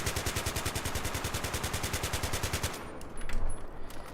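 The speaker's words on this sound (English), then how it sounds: "Right now I'm gonna show you guys full auto with recoil control" Rapid full-auto bursts from an AK-74M rifle in the Battlefield 3 video game, a steady, loud stream of evenly spaced shots for nearly three seconds, then a brief fading tail with scattered game sounds.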